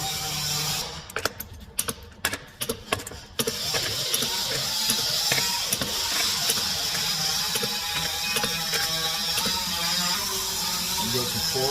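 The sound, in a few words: Ryobi high torque impact wrench hammering a bolt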